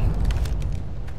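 A nuclear bomb explodes in Fallout: New Vegas, a heavy deep rumbling boom that is loud and short, with a dense low-end roar.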